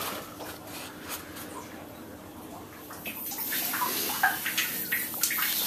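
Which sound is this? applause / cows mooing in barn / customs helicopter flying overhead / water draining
water draining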